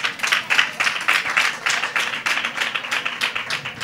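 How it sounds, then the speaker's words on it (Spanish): A crowd claps for a model at a fair-season fashion show, the applause lively and distinctly rhythmic with individual claps audible in a brisk, fairly close burst. "Pues bien, un aplauso para ella, ¿no?"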